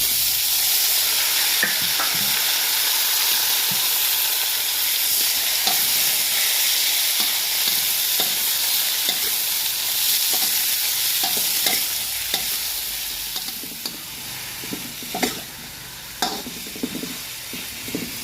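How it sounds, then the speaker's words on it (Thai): Winter melon and golden garlic stir-frying in a hot pan give a steady, close sizzle with a spatula's scrapes and clacks, no voices. "พอกระเทียมเหลืองดีก็ใส่ฟักลงไป"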